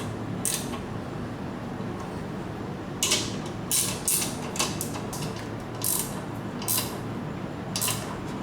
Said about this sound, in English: I can now tighten the bolts in the compressor